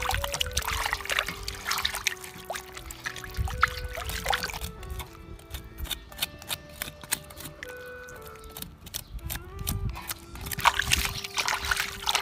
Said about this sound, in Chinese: 先给它大体清洗一下